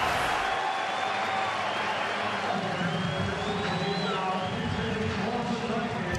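Large baseball stadium crowd at a Red Sox at Tigers game in Detroit, a steady dense roar of applause and cheering that holds for several seconds without letting up.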